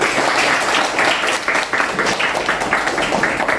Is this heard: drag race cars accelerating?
no